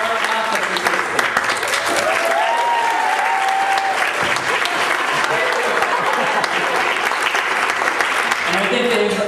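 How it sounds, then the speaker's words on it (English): Audience applause fills a graduation ceremony for a museology graduate program, steady and loud throughout with faint cheering voices mixed into the dense clapping. "I think they've earned that round of applause"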